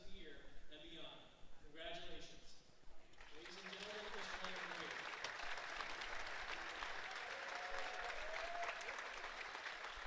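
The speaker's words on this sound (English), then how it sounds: "Littlestown fans showing great sportsmanship, up clapping also" Fans at a boys' varsity high school basketball game against Littlestown break into applause that swells into sustained, fairly distant clapping in the gym, while commentators talk over it.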